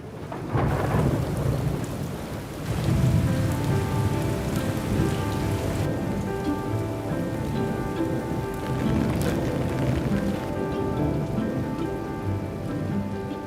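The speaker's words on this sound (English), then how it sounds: "it wouldn't be summer without some heavy rain" Heavy summer rain pours steadily in Kielder Forest, Britain, with rumbles of thunder rolling through the downpour.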